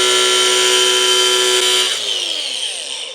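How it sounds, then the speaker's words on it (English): A side grinder spins at high speed, cutting a starter hole in a polycarbonate windshield, a loud steady whine held for about two seconds before the disc winds down as the tool is released. "I'm just going to make me a starter hole with this side grinder"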